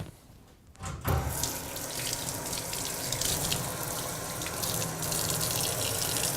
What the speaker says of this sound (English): So next, we ought to wet our hands.